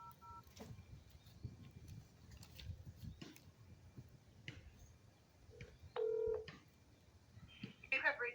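Telephone keypad tones dialing an office number, a few short clean beeps near the end, with faint background room noise and brief quiet speech.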